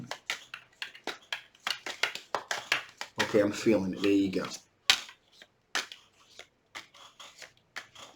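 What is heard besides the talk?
shuffling tarot cards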